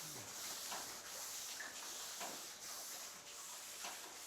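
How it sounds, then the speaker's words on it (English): A wooden tree trunk in a Kyoto machiya is sanded down with very fine real sand, a soft continuous hissing rub with faint rhythmic strokes, quiet and close. "We're sanding down the trunk"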